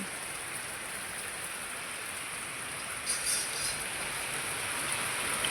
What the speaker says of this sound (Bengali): তাও এখানে বৃষ্টি পড়ছেই, হালকা একটু কম।